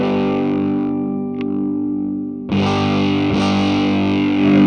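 Vintage electric guitar through a humbucker-style pickup with plenty of gain, sustained distorted chords ringing thick and loud, a fresh strum partway through and another accent near the end.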